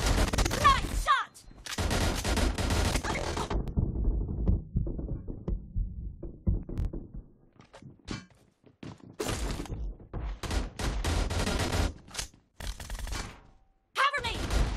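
Gunfire from a team deathmatch video game: dense bursts of shots and explosive blasts, loud and repeated across the clip, separated by brief lulls with quieter game sounds.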